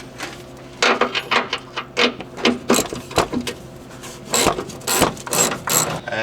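An 18mm nut is worked loose on the bumper mounting of a fifth-generation RAM 3500 with a ratchet, giving bursts of rapid clicking separated by short pauses, close up and clear.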